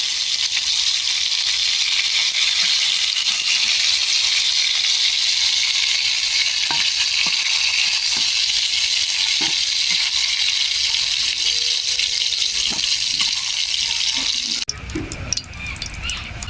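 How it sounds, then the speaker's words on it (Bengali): Pointed gourd (potol) pieces frying in hot oil, a steady loud sizzle and hiss running continuously, with faint clinks of stirring before the sound thins out near the end. "আমি সুন্দর করে উল্টে পাল্টে লাল লাল করে ভেজে নেব"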